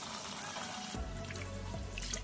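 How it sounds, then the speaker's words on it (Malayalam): Rice washed under running tap water for Kerala-style ghee rice: a steady stream of water hisses and splashes into the grains, close and continuous, with no talking. "അപ്പം ഇനി കഴുകിയെടുക്കാം."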